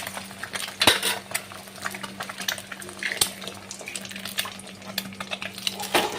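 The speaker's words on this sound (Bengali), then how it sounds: "আর প্রথমে ডিমগুলোকে আমি ভেজে নেব।" Three eggs frying in hot white oil in a kadai while being stirred: a steady soft sizzle with occasional sharp clinks and scrapes of a spatula against the metal pan.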